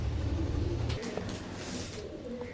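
Young Rajasthani pigeons are let go, cooing steadily at first, then giving way to scattered fluttering bursts and softer calls.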